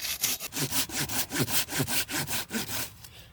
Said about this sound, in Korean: 톱질할 때도 방향을 잘 보고 이렇게 톱질을 좀 해야 됩니다